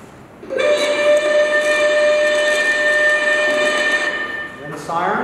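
A lighthouse fog whistle at Piedras Blancas blows one long, steady, loud steam-like tone lasting several seconds, with a hiss under it and a short tail at the end.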